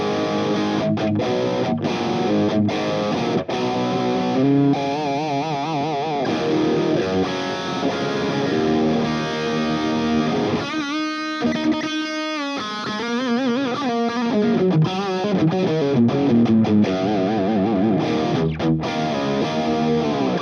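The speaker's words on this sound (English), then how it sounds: "So now we have dived into the distortion territory. Not the heaviest distortion, but still." An electric guitar played through a Klotz Amplification distortion pedal with the gain knob at 9 o'clock for moderate gain, chords and riffs sounding close and continuous, with a brief gap of near silence around the middle.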